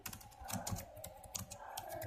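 Steady typing on a computer keyboard while writing an API service test case, a brisk run of close, light key clicks with no talking.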